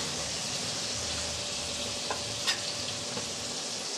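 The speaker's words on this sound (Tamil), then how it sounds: "அடுத்ததாக நம்ம முருங்கைக்காயை சேர்த்துடலாம் ஒரு முருங்கைக்காய் அந்த மாதிரி நீள நீளமாக கட் பண்ணி வச்சுருக்கேன் அதை சேர்த்துடலாம்" Brinjal and drumstick pieces sauté in a pan for a kara kuzhambu, a steady close sizzle running throughout with a few soft stirring knocks and scrapes near the end, no voices.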